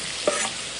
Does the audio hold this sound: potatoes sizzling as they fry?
yes